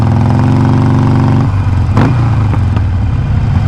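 A Harley-Davidson Forty-Eight motorcycle with an inexpensive aftermarket exhaust revs hard and loud, then drops into a deep, lumpy idle with a brief blip, close and alone.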